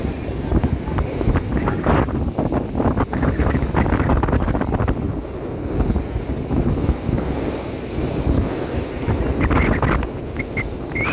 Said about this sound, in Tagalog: kakusog ng hangin